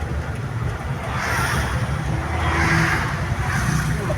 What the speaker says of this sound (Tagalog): Karon ka rin diri na Traffic puno. parang Manila.